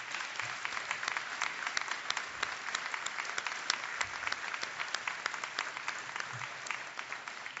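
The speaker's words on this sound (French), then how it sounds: "je demanderais même une bonne main d'applaudissements pour ma conjointe" A gala audience at the 2010 Zénith awards applauds the honoree's wife, a sustained crowd ovation of many overlapping claps, steady and full throughout, heard from within the hall at moderate level.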